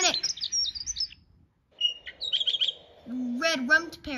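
A dunnock singing a quick, high, jangling warble of thin twittering phrases, broken by a short pause, with a lower bird call and a brief squawk-like note joining near the end, close and clear.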